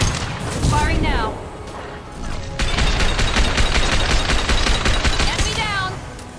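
Gunfire in the video game Mass Effect: dense rapid automatic bursts with booming impacts, loud and continuous over a game soundtrack, with voices talking intermittently.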